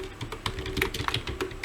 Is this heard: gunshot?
no